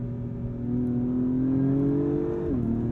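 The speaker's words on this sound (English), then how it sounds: "Watch, you'll see it upshift before I actually pull the paddle." A 2021 Acura TLX Type S sport sedan accelerates hard with a steady rising engine drone, then a quick upshift drops the pitch near the end; close, continuous and loud, with no talking.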